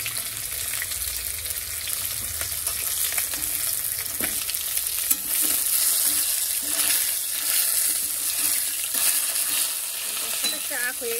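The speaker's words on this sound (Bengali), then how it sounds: "এই মাছের মুড়োগুলো, কাতলা মাছের মুড়োগুলো সব ভাজা করছি।" Katla fish heads frying in hot oil, a continuous bright sizzle and crackle with occasional stirring clatter, close and steady, no voices.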